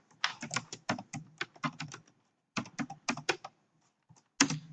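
A computer keyboard is typed on close by in quick bursts of crisp key clicks, two runs split by a short pause, then a final sharp tap.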